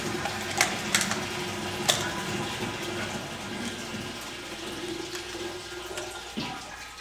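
Water drains from an open-valved column in a continuous rushing, gurgling wash, with a few sharp splashy spikes early on and the flow slowly thinning toward the end, unaccompanied by speech.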